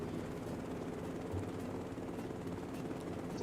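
Helicopter hovering in a cattle co-op simulator video game: a steady, continuous rotor drone with a low, even hum that neither rises nor fades, alone without speech.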